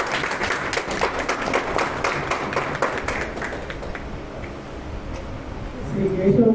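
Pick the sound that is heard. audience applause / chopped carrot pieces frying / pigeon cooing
audience applause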